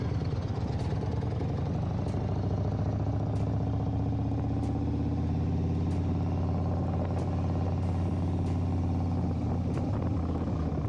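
A car's exhaust rumbles at a steady low idle, a deep continuous purr heard close and fairly loud, with faint periodic ticks over it.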